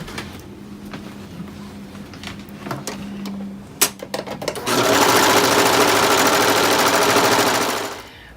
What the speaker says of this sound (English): I'm going to finish the edges with a serger for the pockets